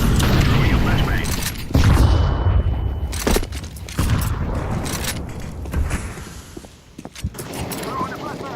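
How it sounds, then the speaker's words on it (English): Several sharp booms and bangs burst through a round of Counter-Strike 2, including a flashbang grenade, with players talking over the action. "Throwing a flashbang."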